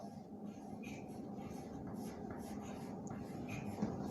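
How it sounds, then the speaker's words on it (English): Steady scratching of writing on a board during an English grammar lesson, a continuous faint scraping with occasional soft taps, no talking, against a low room hum. "suppose let me write one sentence here"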